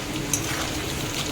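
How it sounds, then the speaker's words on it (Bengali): Small new potatoes frying in a pan, the steady hiss and crackle of hot oil running throughout, with a faint scrape or clink near the start. "ছোটো ছোটো আলু ভাজছি, ডিম দিয়ে কালিয়া করবো বলে।"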